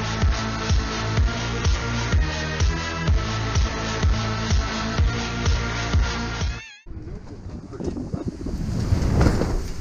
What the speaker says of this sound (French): Il y a pas mal de vent là